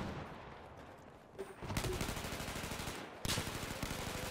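Rapid gunfire bursts in Battlefield 4 crackle through a dense battlefield din, several weapons firing in overlapping volleys with a sharp surge of shots near the end.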